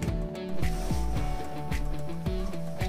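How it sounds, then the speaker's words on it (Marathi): A kitchen mixer grinder grinding tomatoes: a steady motor whine with harmonic hum and a rhythmic rattling thump as the jar contents churn, running continuously and fairly close, with no talk. "आता आपण हे टोमॅटो मिक्सर मध्ये वाटून घेऊया."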